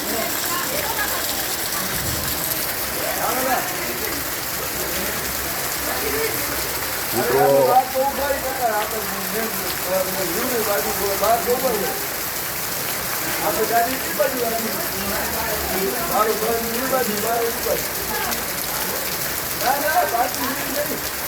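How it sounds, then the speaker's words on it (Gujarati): Heavy, steady rain pours down in Wankaner, a constant dense hiss on surfaces with a few louder bursts of drops, and a voice speaks faintly beneath it now and then. "મિત્રો વરસાદની ગતિ પણ અત્યારે તીવ્ર છે"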